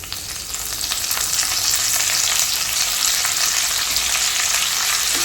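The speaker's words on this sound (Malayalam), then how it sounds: "ഇനി നമുക്ക് വറ്റമുളക് ഇട്ട് കൊടുക്കാം അതുപോലെ തന്നെ വെളുത്തുള്ളി ഇട്ട് കൊടുക്കാം" Dried red chilies, chopped garlic and curry leaves crackle in hot oil for a red spinach curry, a steady close sizzle with bright spattering that holds level throughout, no voices.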